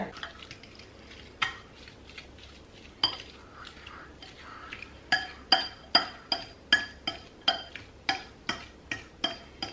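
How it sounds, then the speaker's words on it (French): Ricotta, egg and parsley being stirred together in a mixing bowl, with a spoon clinking rhythmically against the bowl, sparse at first and then steady regular taps near the mic. "on va mélanger avec un œuf, donc déjà avec le persil"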